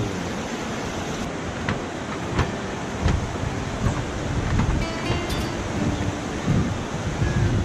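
Fast-flowing river water rushes loudly and continuously as a broad roaring wash with occasional splashes, near and steady, with children bathing in the current and no clear talking.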